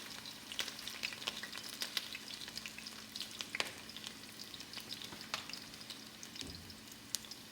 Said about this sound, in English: I'm going to drop the onions in there. It's going to sizzle.